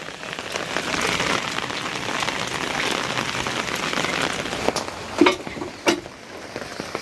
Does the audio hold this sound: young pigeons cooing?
no